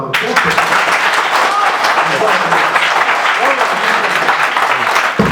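Sustained applause from a crowd, dense and steady clapping filling the room, with some voices mixed underneath.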